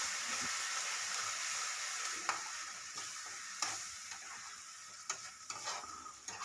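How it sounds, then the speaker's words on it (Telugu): Spice paste fries in hot oil for a chicken curry, a dense, steady sizzle with occasional scrapes and clicks as it is stirred, close and fairly quiet. "పేస్ట్ వేసి ఫైవ్ మినిట్స్ బాగా వేయించుకోవాలి"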